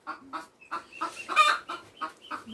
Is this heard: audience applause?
no